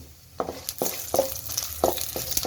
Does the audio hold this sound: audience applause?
no